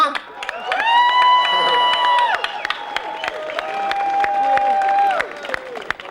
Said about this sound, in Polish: w ramach podziękowania oklaski dla rektora